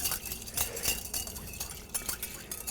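A spoon stirs a small cornstarch slurry in a bowl, giving quick, light clinks and scrapes in an irregular run, close and soft.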